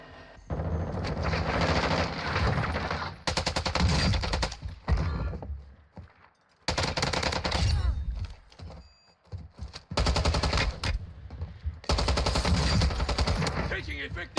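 Automatic rifle fire from a TAQ 56 in the Warzone 2 shooter, sustained loud bursts of rapid shots separated by brief pauses, with game voice callouts heard between volleys.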